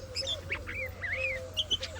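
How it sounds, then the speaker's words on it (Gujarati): Several birds call close by in short, bright chirps and squawks scattered over a low steady hum, lively and irregular. "એવા કિલ્લોલ કરી રહ્યા જો પક્ષીઓ મસ્ત"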